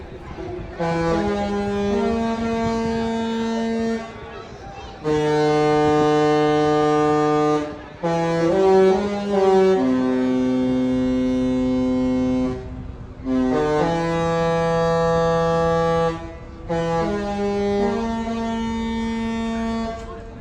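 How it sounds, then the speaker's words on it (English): A deep, loud cruise ship horn, the Sky Princess's, blasts several times, each long sustained chord lasting a few seconds, separated by short pauses. "listen out for that iconic loveboat horn"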